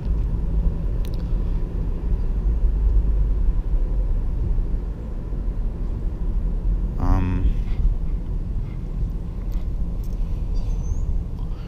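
Chevy car driving back toward its parking spot, with a steady low engine and road rumble throughout and a brief higher whine partway through.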